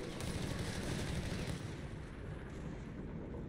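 Dense, distant battle din from Company of Heroes 3: a continuous wash of gunfire and rumbling explosions at a steady, fairly faint level, with no clear single shot.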